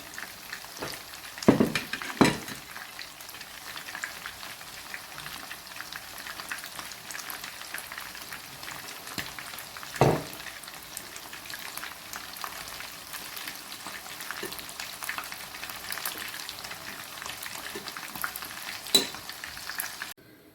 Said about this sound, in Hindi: अब दोबारा हम इस पर कोटिंग करेंगे, जो मैंने पका के रखी है वो दोबारा हम इसमें डालेंगे ताकि दोबारा जो अच्छी तरह से कोटिंग हो सके।